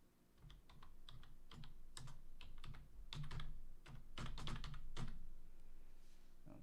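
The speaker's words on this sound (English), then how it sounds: "I'm going to type disk management" Someone types on a computer keyboard with quick, uneven bursts of crisp keystrokes, close and fairly soft, broken by short pauses.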